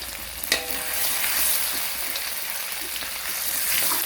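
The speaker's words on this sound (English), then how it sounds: "I'm going to fry for a little while." Chili and garlic frying in hot oil in a pan for a Thai stir-fried seafood with holy basil, a steady close crackling sizzle with a brief stir clatter near the start.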